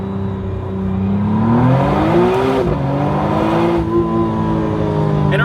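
A McLaren Artura Spider accelerates hard, engine note climbing through the revs, dropping at a gearshift and rising again, loud and close from inside the car.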